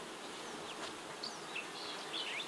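Honey bees swarm around an opened, honey-filled beehive being smoked, a continuous close buzzing with individual bees whining past in rising and falling tones.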